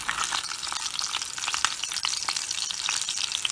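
Rock fish fries in hot oil as it is turned over, giving a close, steady crackling sizzle with bursts of spitting throughout.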